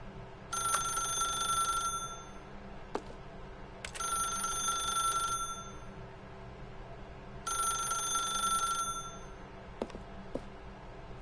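Telephone ringing in the video game The Stanley Parable: three long electronic ring bursts with clean harmonic tones, evenly spaced and fairly loud, followed by a few faint clicks.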